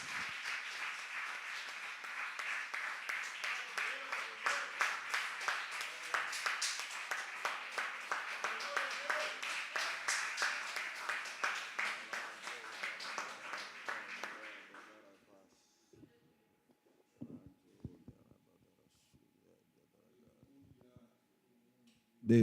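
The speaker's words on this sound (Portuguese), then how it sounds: "Dê a melhor salva de palmas que você puder dar para a palavra do Senhor." Church congregation at an Assembly of God service gives sustained, dense applause for about fifteen seconds, loud and even, before it fades quickly into near silence with a few faint knocks.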